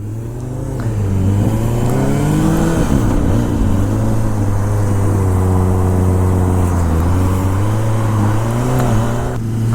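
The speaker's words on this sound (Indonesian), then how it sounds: "Motornya yang gede, 1000 RR. Suaranya gila, mantap." A big 1000 RR sport motorcycle engine drones steadily while riding through a Saitama village, loud and close, its pitch rising and falling as the throttle opens and eases, with no talk over it.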